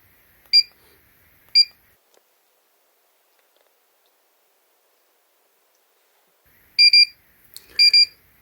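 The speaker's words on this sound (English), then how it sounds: "Probably start beeping." Two single electronic beeps, a long silence, then quick bursts of high-pitched double beeps from a Regetek cooking thermometer's timer alarm, close and clear.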